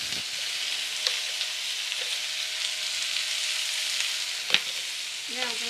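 Sliced onions sauté with salt in a pan on full heat, making a steady close sizzle with a few sharp clicks of stirring and no talk.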